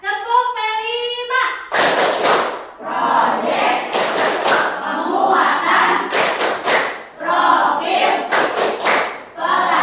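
Students in an Indonesian junior high classroom (SMP Islam Al Falah) perform the Tepuk P5 clap chant: loud rhythmic group clapping bursts alternating with chanted voices, repeated several times at close range alongside a teacher's speech.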